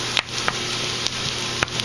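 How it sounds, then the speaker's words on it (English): Garlic sizzles in hot sesame oil in a pan for a quick stir-fry, a steady close hiss dotted with sharp little pops and crackles. "Just going to let that sizzle a little bit."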